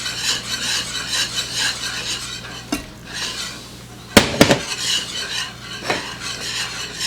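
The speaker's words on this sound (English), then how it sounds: "Keep stirring it to get the clumps out." Beer cheese dip stirred in a pot to work out clumps, a steady scraping and rubbing of utensil against the pan with a few louder clanks, close and alone.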